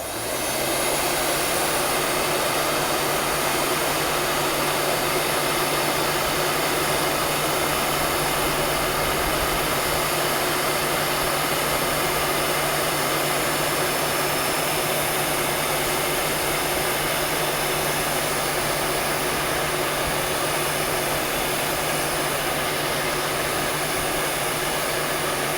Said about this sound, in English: so we'll bring our heat gun over